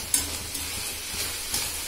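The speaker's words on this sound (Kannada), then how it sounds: "ಈಗ ಈರುಳ್ಳಿನೇ ಹಾಕಿ ಸರಿಯಾಗಿ ಫ್ರೈ ಮಾಡಬೇಕು. ಆನಂತರ ಟೊಮೆಟೊ ಪೀಸ್ಗಳನ್ನು ಆ್ಯಡ್ ಮಾಡಿ." Onion and tomato pieces frying with ginger and garlic in a pan, a soft steady sizzle with faint stirring scrapes and a few light knocks, close and continuous with no talk.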